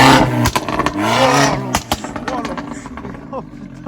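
A turbocharged Abarth revs hard nearby, its engine note sweeping up and down in bursts with sharp pops and crackles, while people talk and exclaim over it.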